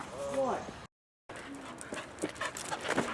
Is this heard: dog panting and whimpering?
yes